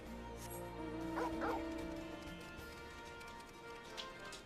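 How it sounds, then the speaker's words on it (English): A puppy in the video game Final Fantasy XIV gives a couple of quick, small yips and barks over a quiet, steady game soundtrack. "Ooh, that's a puppy."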